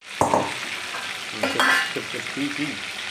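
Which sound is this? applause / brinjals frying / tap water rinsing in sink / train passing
brinjals frying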